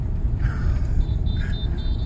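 Heavy road traffic during sugarcane harvest season, with a car engine giving a steady, close, low rumble that runs unbroken throughout.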